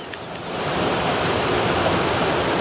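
A mountain stream rushes at night, a loud, close, continuous watery roar that swells within the first half second and then holds steady, with no voices.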